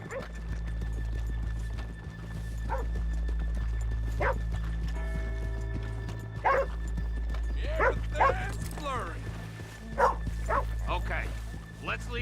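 Horses' hooves clip-clopping in Red Dead Redemption 2, a few irregular hoof hits over a low steady hum, with a dog barking and a horse whinnying, and someone talking over it.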